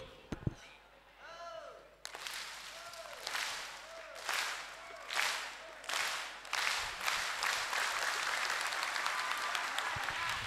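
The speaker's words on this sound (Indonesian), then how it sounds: "Tepuk tangan untuk kalian semuanya." An audience at a Maulid Nabi religious lecture bursts into applause, starting as scattered claps and swelling into sustained, fairly close clapping from a crowd, with a few brief voices mixed in.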